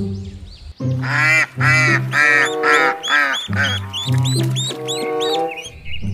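Duck loudly quacking in a steady run of harsh, nasal calls, close and prominent over roughly six seconds with only brief pauses between bursts.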